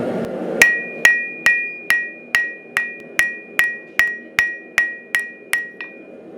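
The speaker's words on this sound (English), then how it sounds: "just really straighten out that blade and get it flat" A hammer strikes a hot forged boot knife blade to flatten it, about fourteen sharp ringing metallic blows in a steady rhythm, each clang decaying quickly, close and loud with no talking.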